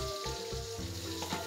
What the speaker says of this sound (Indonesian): goreng lombok